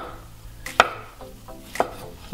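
A knife chops mushrooms on a cutting board in a few sharp, spaced knocks, quiet between strokes, with no talking.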